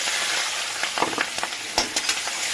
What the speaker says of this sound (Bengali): এই তেলে এইগুলো ভাজা করবো